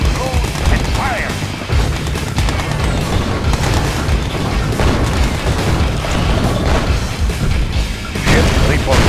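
Artillery fire and explosions in Red Alert 2, a continuous loud barrage of booms and blasts with rumbling battle noise throughout, no pause in the din.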